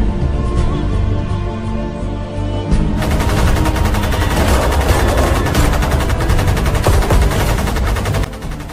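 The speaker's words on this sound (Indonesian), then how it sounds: "sempat terjadi kontak senjata dengan Belanda" Rapid machine-gun fire and scattered rifle shots in an armed clash with Dutch troops, loud and continuous, starting lighter and swelling into a dense, sustained volley after a few seconds.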